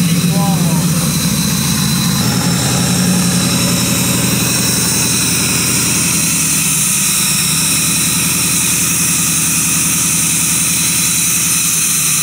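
A twin-charged Ford Crown Victoria engine runs loud and close, a rough steady idle with a droning rumble held throughout, while people talk over it.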